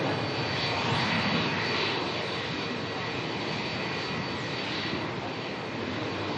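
Jet engines of an Airbus A350-1000ULR trial aircraft at Melbourne airport roar steadily as a loud, continuous broadband rumble and whine that fills the whole stretch without a break.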